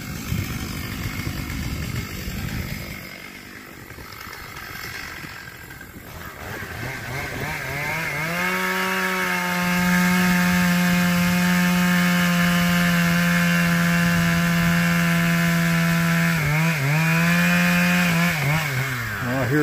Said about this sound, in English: I like cutting those big bur oaks.